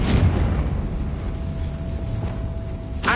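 A Confringo fire spell blasts in Hogwarts Legacy, a loud sustained boom rolling and rumbling for about three seconds, capped by a fresh burst at the end.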